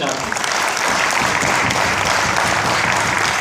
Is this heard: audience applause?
yes